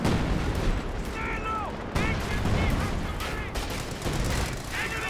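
Artillery and gunfire from the strategy game Company of Heroes 2, with dense battlefield shots and booms crackling continuously through the scene, while a commentator talks over the action.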